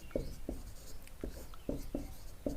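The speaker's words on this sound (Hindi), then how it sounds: "चलिए हम डेफिनेशन यहाँ पे लिख दे रहे हैं।" A pen or chalk writes a definition by hand, giving a series of short scratchy strokes in an uneven rhythm, close but fairly quiet over a steady background hiss.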